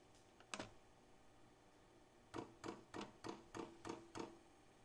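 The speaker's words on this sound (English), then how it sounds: "So that's the fuel pump priming it." Fuel pump of a Vevor 5kW diesel parking heater priming: after one early click, a steady run of about seven evenly spaced sharp ticks over a low mains hum, close and fairly quiet.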